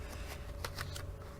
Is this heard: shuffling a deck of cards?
yes